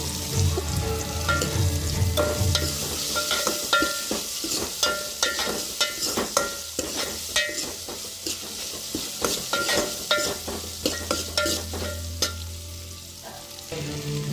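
Okra pieces frying in a pan sizzle steadily while a utensil stirs and scrapes now and then, with no voices.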